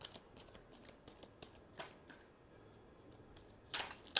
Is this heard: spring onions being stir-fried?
no